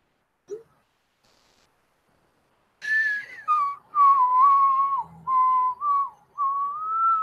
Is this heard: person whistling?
yes